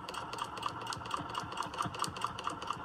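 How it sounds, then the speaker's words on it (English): A quilting sewing machine running steadily during ruler work, its needle clattering in an even, rapid rhythm, close and moderately loud, with no talk. "So Mary Kay, I'm doing this ruler work, and I just figured out a faster way for me to even do it"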